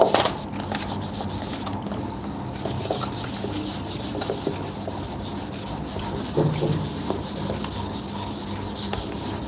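A board being rubbed clean during a chemistry lesson, a continuous dry scrubbing hiss that holds steady and close for several seconds without talk.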